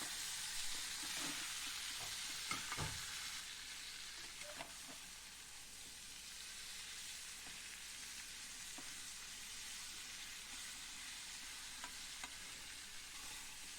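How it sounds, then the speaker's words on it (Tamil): Brinjal frying in oil gives a steady, soft, continuous sizzle with a few occasional stirring scrapes near the start, alone without talk. "அந்த எண்ணெயிலே கத்திரிக்காய் நல்லா வதங்கிடும்."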